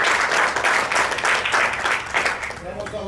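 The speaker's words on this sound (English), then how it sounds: "Don Grimes, David Jensen, and Nick Arnett, a round of applause again" An audience at a National Speakers Association meeting breaks into a round of applause, with dense, sustained clapping that tapers off slightly toward the end.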